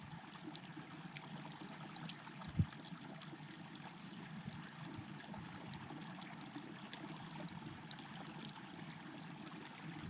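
Water runs and trickles continuously in a steady low rush as a container overflows while being refilled outdoors on a mountain climb, with one brief knock partway through, no voices.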